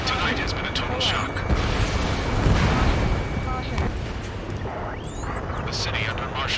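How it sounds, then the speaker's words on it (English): Battle noise in a city under martial law: a heavy, continuous rumble with cracks of gunfire and a jet roar sweeping through the streets, loud and echoing, with voices partly underneath. "Gunfire and the roar of jets echoing through the streets."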